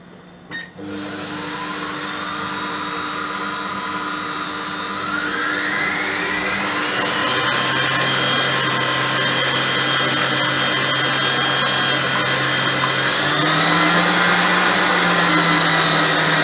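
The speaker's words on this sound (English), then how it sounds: "it's going to take a little bit of playing around with the new mixer" A new electric kitchen mixer whirs steadily at high speed, close and fairly quiet. Its motor pitch climbs in two stages as it speeds up, and there are no voices.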